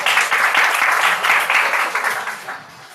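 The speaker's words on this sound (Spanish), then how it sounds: "Un fuerte aplauso al pasapantallas," A burst of loud audience applause, dense clapping from a crowd that swells and then begins to fade toward the end.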